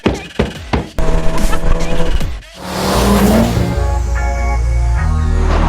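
A supercharged Mazda MX-5 Miata spins out with a few sharp engine blips, then a long loud tire squeal and revving engine that holds steady, close and with no talk.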